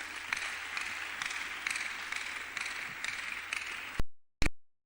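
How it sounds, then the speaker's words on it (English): A church congregation claps hands in a steady, rhythmic beat, layered in a loud, reverberant hall before cutting out abruptly. "Clap your hands for Jesus."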